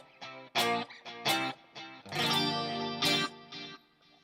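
An electric guitar through a Line 6 Helix plays a clean tone with chorus, reverb and a short delay: a few plucked notes and ringing strummed chords with a shimmering wash and brief echoes, heard alone at moderate volume.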